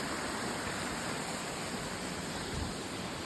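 Water flows by a trail in the Santa Clarita area as a steady, broad rushing hiss, even and unbroken throughout, moderately loud and with nothing else heard.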